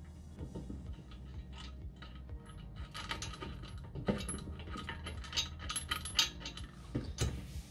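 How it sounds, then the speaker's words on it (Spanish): A bolt being screwed into the leg of a multifunction weight bench during assembly, with repeated metallic clicks, ratcheting and small clinks of hardware close by, busy and uneven throughout. "Alineamos las roscas que están hechas ya en la pata y ponemos el primer tornillo."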